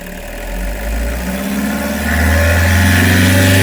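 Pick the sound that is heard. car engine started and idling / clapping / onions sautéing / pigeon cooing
car engine started and idling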